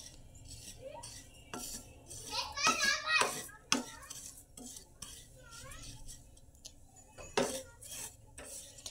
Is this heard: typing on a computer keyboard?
no